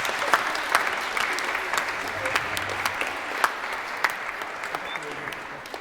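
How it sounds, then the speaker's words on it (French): A congregation at an Easter Sunday Mass applauds after a baptism. The clapping is a steady, moderately loud patter with sharper individual claps that stand out, and no one speaks over it. "on peut t'applaudir"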